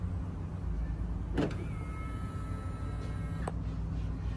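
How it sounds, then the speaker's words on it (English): A 2022 Toyota Corolla Cross 1.8 hybrid locks from a press on its front door handle, giving a short mechanical clunk near 1.4 seconds and a second brief click near 3.5 seconds over a steady low background hum. "To lock the car, press the indentation on the front door handles."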